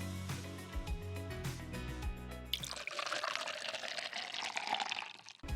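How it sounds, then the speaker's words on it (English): Milk pours straight into a cup in a steady, close liquid stream over soft background music, starting partway through and running to the end. "I got a really nice close-up of the milk being poured straight into the cup"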